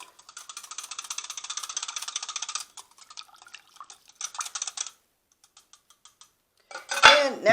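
Wet ingredients for cinnamon rolls are mixed in a bowl: rapid rhythmic clinking and scraping of a utensil in bursts, close and clear with pauses between, ending in a short louder clatter.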